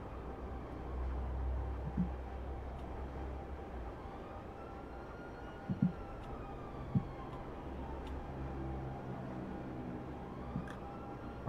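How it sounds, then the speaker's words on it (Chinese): Police car sirens in the video game GTA, several wailing tones rising and falling over a low rumble with a few sharp clicks, continuous and moderately distant without talk. "怎么下面也有警车啦"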